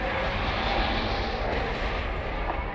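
Starfighter launching out of a hangar in the space combat game Star Wars: Squadrons, a steady, loud engine roar with broad hissing thrust held constant throughout, no voices.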